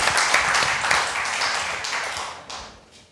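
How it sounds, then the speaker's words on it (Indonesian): A talk-show audience claps in a brief burst of close, crisp hand claps that gradually thins out and fades over about three seconds. "Tepuk tangan lu dong, biar semangat"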